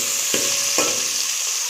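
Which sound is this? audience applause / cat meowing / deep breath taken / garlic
garlic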